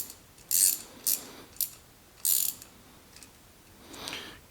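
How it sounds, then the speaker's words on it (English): Low-profile ratcheting wrench clicking in several short, crisp bursts with pauses between them, close and fairly quiet against a still room. "So we got ratcheting wrench"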